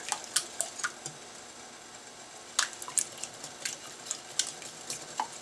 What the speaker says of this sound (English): I'm going to get this all whisked together